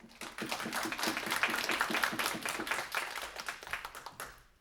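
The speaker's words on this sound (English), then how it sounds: "Please let's give him a warm round of applause" Warm applause for the Director of Sustainability at a student government senate meeting, a room of people clapping together in a fairly close, steady burst that swells and then tapers off.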